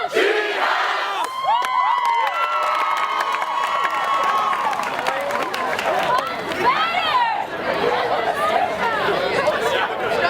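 A large crowd of students on a college dormitory move-in day shouts and cheers together, with many overlapping voices, loud calls and chatter filling the space at close range throughout.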